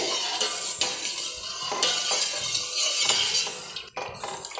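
Semolina kheer with milk is stirred steadily in a pan, a continuous close scraping with light clinks of the spoon against the metal, loud and unbroken for a few seconds.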